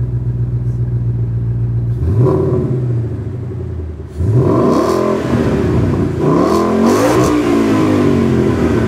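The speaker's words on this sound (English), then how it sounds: "You want to give it some gas? Toss a rev at it." A supercharged 2014 Ford Mustang GT V8 idles with a deep rumble, then revs hard several times, each blip climbing and falling, loud and close.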